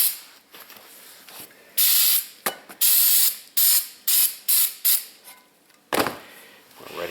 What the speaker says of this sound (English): get some brake cleaner and just spray that off, clean it up